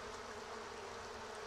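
Honeybees buzz steadily around a beekeeper working the hive, a dense, continuous drone from many insects, close and even for the whole short stretch, with no voices.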